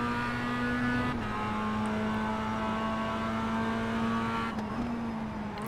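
Mazda MX5 Cup race cars roll off behind the pace car at a sim racing start, a steady droning engine tone held at a constant pitch with slight dips, loud and continuous with no talking.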